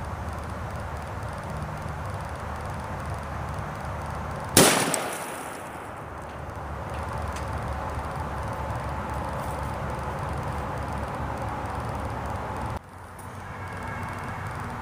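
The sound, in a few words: Federal MK 318 Mod 0 rifle round fired into concrete slab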